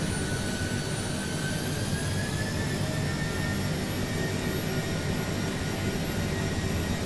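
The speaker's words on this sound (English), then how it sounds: "Nice sound of the engine there." Airbus A330-300 jet engines in Microsoft Flight Simulator 2020, heard from inside the cockpit during the takeoff roll as a constant, loud, broad roar with a faint rising whine.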